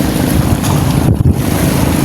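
Strong wind buffets the microphone in a loud, steady roar with low rumbling gusts, like being out on open water, no speech.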